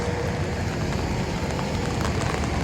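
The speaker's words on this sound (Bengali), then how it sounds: "এরকম বৃষ্টির ভিতরে বৃষ্টির শব্দ পাচ্ছেন" Rain pours steadily around a resort, a dense, even wash of noise with scattered patter, close and unbroken, with no voices.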